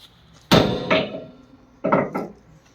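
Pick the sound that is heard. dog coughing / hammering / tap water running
hammering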